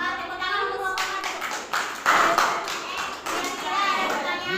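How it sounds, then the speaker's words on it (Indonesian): Classroom applause for a student group presenting a lesson on volcanoes, a scattered round of clapping from children with a few voices mixed in and some thumps, moderately loud throughout. "tepuk tangan untuk kelompok 4"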